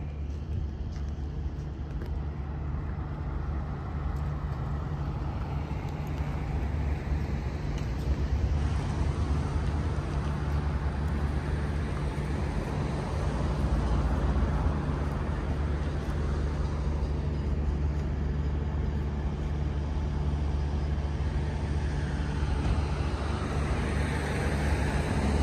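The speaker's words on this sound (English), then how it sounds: "And all of the cars heading into the burn." Cars head into the Burning Man event past the desert town of Empire, Nevada, as a continuous broadband roadway rumble of steady traffic and engines that drones on for the whole stretch.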